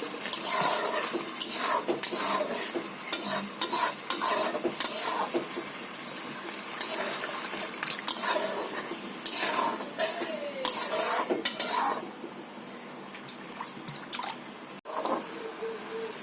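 Water added to a hot frying pan of Bengali spiced curry, followed by vigorous stirring: sizzling hiss with repeated scraping and clinking of a spoon against the pan, loud and close, easing into quieter simmering near the end.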